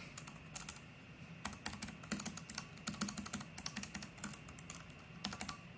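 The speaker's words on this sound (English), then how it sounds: "the Cherry ultra low profile mechanical keyboard" Typing on a Cherry ultra low profile mechanical keyboard in an Alienware X17 laptop, soft quick clicky keystrokes in irregular bursts, fairly quiet and close, with no talking.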